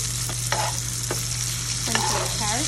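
Thinly sliced onions and carrots sizzle in a pan while sautéing for escovitch sauce, a loud steady frying hiss with a few soft stirring scrapes and no talking.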